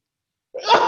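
A single short, sharp sneeze bursts out after a moment of silence, close and fairly loud.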